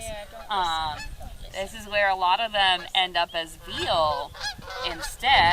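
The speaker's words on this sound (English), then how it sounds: "there's a lot of geese overhead right now, but you hear a lot of noise from that" A flock of geese honks overhead at an animal sanctuary where cows are kept. Repeated, raspy honks come in bursts of varying loudness while a person talks over them.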